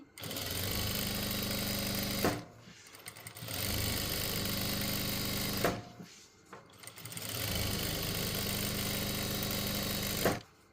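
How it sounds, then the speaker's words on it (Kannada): A sewing machine stitches sponge padding onto lining cloth cut from an old shirt, running in three long steady bursts separated by brief pauses, loud and close with no talking. "ನಾನು ಫಸ್ಟು ಈ ಸ್ಪಂಜನ್ನು ಈ ಲೈನಿಂಗ್ ಬಟ್ಟೆಗೆ ಹಾಕಿ ನೀಟಾಗಿ ಹೊಲ್ಕೋತೀನಿ"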